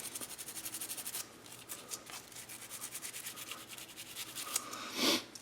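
Steady back-and-forth scrubbing of an AK-47 bolt being cleaned of carbon deposits with COP solvent, a rhythmic brushing rasp close by that keeps repeating with brief pauses, no talking.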